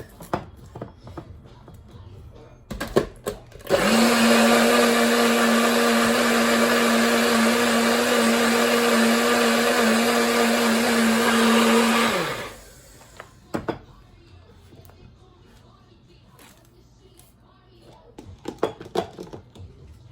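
A Nutribullet blender whirs through chipotle veggie taco sauce in a kitchen. The motor runs as one loud, steady drone for about eight seconds and then cuts off, with small clatters in the quiet before and after.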